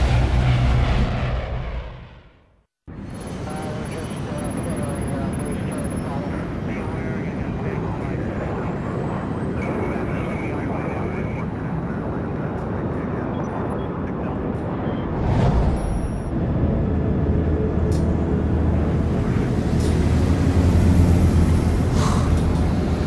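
Steady, loud engine drone inside an airplane cabin in the video game Splinter Cell Blacklist, a continuous roar lasting throughout, with voices speaking at times over it.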